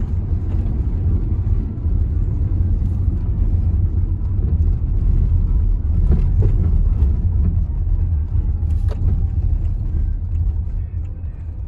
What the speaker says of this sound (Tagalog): Yan yung mga tricycle. Unti-unti na lumalabas.